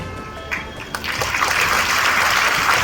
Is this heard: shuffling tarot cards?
no